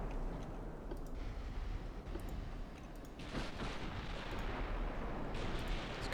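Naval gunfire in the warship game Ultimate Admiral: Dreadnoughts, with 8-inch guns on a battleship: a continuous low rumble broken by a few muffled booms and faint ticking, no talk.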